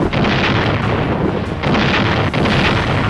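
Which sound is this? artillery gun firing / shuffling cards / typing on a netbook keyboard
artillery gun firing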